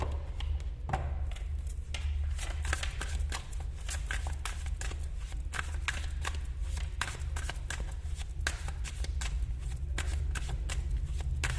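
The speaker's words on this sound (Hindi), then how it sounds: "मैं यहाँ से कुछ कार्ड्स निकालना चाहूंगी" Tarot cards are shuffled steadily and continuously, a dense close-up riffle of card edges with quick taps and flicks as cards are handled and drawn, with no voice over it.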